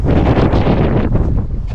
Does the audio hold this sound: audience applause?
no